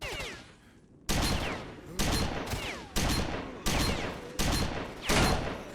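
Gunfire in STALKER: Shadow of Chornobyl: after a quiet second, six loud, sharp bursts land about once per second, each with a short ringing tail.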